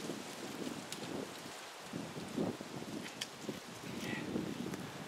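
Outdoor wind buffets the microphone while someone paints a tree in acrylics, a steady rumbling roar with uneven gusts swelling and falling, fairly faint overall.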